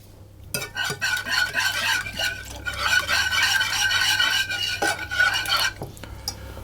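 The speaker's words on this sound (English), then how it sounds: "I'm then going to add my lemon zest and mix that around" Lemon zest being stirred into a liquid pie filling in a bowl, with a spoon or whisk scraping and clinking against the sides in quick, uneven bursts, close and fairly loud, pausing briefly between strokes.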